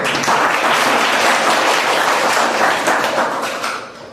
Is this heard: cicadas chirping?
no